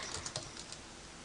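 Fingers tap keys on a computer keyboard in a short, quick burst of soft clicks, close and fairly faint.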